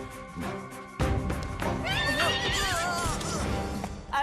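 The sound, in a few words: horse neighing in a Hindi cartoon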